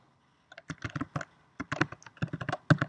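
A git command is typed on a computer keyboard in two quick bursts of crisp, close keystrokes separated by a short pause, with no talking.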